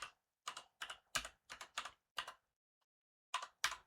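About ten distinct key presses tap out on a keyboard while a passphrase is typed into a phone vault app, crisp and close, in an uneven rhythm with a pause before the final few keystrokes.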